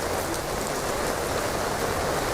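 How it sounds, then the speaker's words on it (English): Steady rain falling and pattering on surfaces nearby, a dense, even hiss that holds for a couple of seconds with no voices. "It started to rain and there's thunder."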